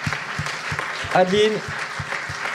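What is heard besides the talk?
audience applauding festival volunteers as they arrive on stage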